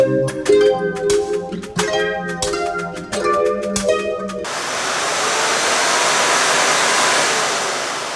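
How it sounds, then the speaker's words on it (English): Tinkling music plays for a few seconds, then cuts to a vacuum cleaner running in a bedroom, a close, steady whooshing roar that swells slightly and holds to the end with no talk. "even for me, vacuuming makes like a huge difference"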